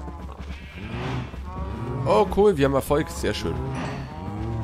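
Cows mooing in Minecraft, several drawn-out, close bovine moos overlapping, loud and prominent, while someone speaks German over and between them.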